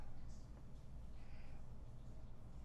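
A pet cat meows indoors, a few faint, soft calls spread over a couple of seconds beneath a low background hum.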